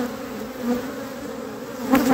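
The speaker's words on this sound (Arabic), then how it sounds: "والنحل يقوم بالخروج والدخول" Honeybees buzzing as they fly in and out of a hive entrance, a steady close insect hum with a brief louder swell near the end.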